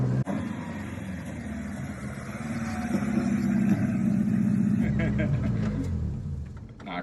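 Zetec-powered Mk2 Ford Escort running on twin Weber carbs, a close, loud rumbling engine that builds and holds, then eases off, with voices talking over it.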